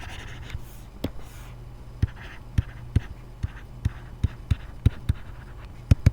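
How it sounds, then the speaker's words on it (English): A pen jotting notes on paper while working a statistics practice exam, producing a steady series of sharp, close taps and scratches at irregular intervals with no talking. "let's go ahead and write that down"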